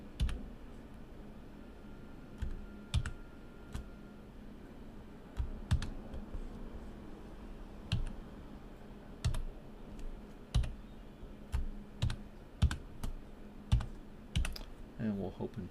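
A password being typed on a computer keyboard, with irregular clusters of close, crisp key clicks separated by short pauses against a quiet hum.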